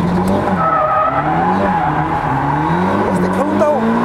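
A drift-practice car slides with sustained tire squeal over a steady engine drone, the pitch wavering as it countersteers, loud and close throughout with no voices.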